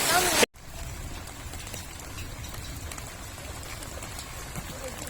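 Pouring rain falls steadily in a village roadside setting, a dense continuous patter of drops, fairly soft and even after an abrupt cut at the start.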